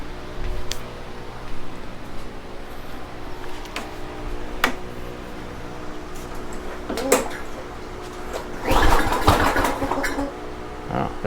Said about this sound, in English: It's popping through the carb though